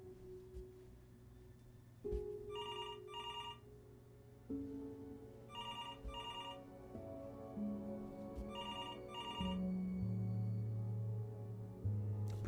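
A telephone rings in the video game Before Your Eyes, three repeated bursts of a bright electronic bell tone over low, shifting musical drones.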